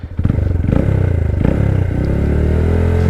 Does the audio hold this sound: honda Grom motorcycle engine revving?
yes